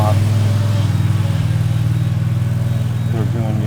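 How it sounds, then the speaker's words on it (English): A tractor doing yard maintenance on clubhouse grounds drives by with a steady, loud engine drone and throbbing low rumble throughout, with brief voices rising over it near the end. "That was a tractor."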